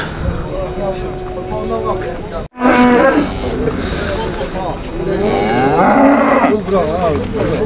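Dairy cows at a livestock bazaar in Jalal-Abad give loud, drawn-out moos, one after another, over a busy market din with people talking nearby.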